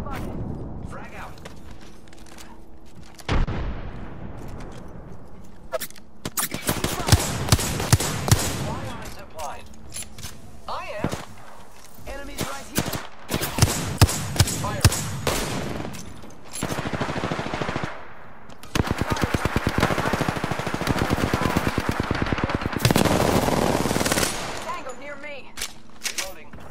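Automatic and single gunfire bursts from the Apex Legends battle royale shooter, loud and repeated in clusters through the clip with explosive booms, mixed with a player's voice talking over the action.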